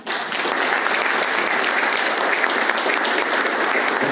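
Audience at a history talk on a local radio station in Oberá applauding in a dense, steady wash of clapping that holds evenly throughout.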